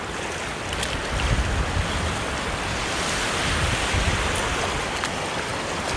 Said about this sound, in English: Beachside, literally sitting in the water.